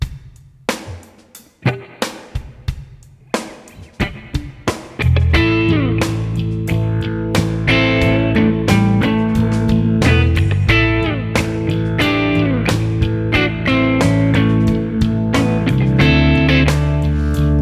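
Electric guitar plays single picked notes, then settles into a steady riff with a reverberant wash and no echo repeats.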